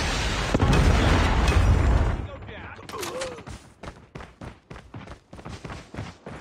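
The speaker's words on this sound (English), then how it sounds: "Predator missile inbound." A Call of Duty predator missile strike lands with a heavy, roaring blast lasting about two seconds, followed by a rapid string of sharp gunfire bursts and pops in the game's battle.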